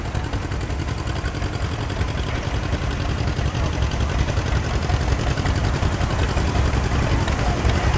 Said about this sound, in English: John Deere 40, 1954, Leo Shelton out of Rumely, Ohio right there